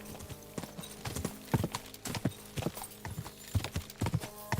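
Horse hooves clip-clop steadily in the medieval role-playing game Kingdom Come: Deliverance II, a brisk, close rhythmic trot with no talk over it.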